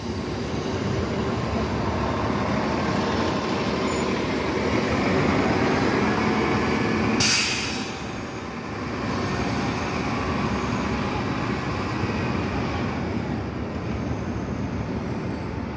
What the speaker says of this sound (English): Amtrak.